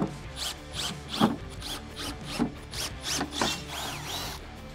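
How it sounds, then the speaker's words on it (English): Power drill boring drainage holes in metal ammo cans, a series of short repeated grinding, squealing bursts in a steady rhythm, close and moderately loud with no talking. "We're going to go ahead and drill some drainage holes in our ammo cans."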